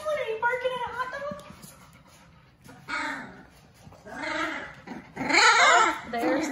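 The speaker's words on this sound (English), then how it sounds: "there's the famous growl from Paprika." Young Labrador puppy growling and whimpering in a play room, several short grumbling and whining bursts at close range with pauses between, mixed with nearby talk.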